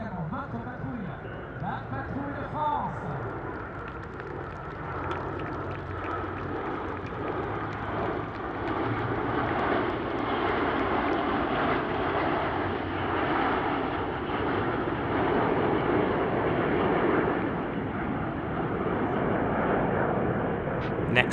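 Patrouille de France jets make a final topside pass to close the Meaux Airshow 2022, a broad, sustained jet roar that swells and holds steady for the whole stretch, with wind buffeting the microphone.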